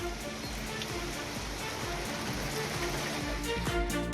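Heavy rain pours steadily and loudly outdoors over roads where water pools in roadside potholes, a dense, even hiss with pattering drops throughout.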